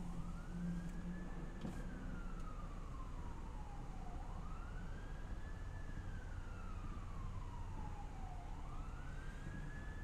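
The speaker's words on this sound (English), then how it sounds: "I hear sirens." A wailing emergency vehicle siren on the streets of Austin sweeps up and down in long repeated cycles, steady and fairly loud against constant low traffic rumble.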